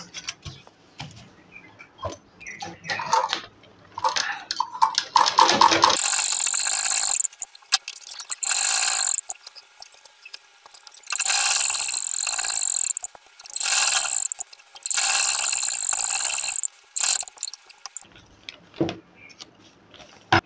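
A sewing machine stitches fabric for a sleeve design in several bursts of fast mechanical whirring, separated by quieter pauses filled with handling clicks and rustles.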